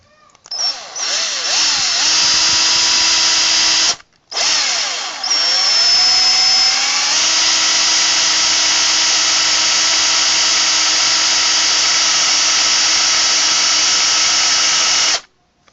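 A battery drill with a weakening battery bores into the hardened plaster of a homemade ant nest, a loud high whine in two long runs with a short pause between them, slowing slightly as it strains.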